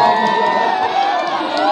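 A loud crowd at a village cup final match roars and cheers continuously, a dense wash of many voices with shouts rising above the din.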